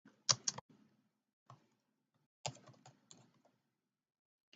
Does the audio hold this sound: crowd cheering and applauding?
no